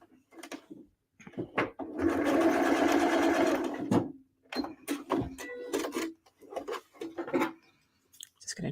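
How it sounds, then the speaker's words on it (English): A sewing machine stitches across the bottom end of a zipper in a steady, loud run of about two seconds, framed by shorter bursts of stitching and handling clatter. "now I'm just going to stitch across the bottom"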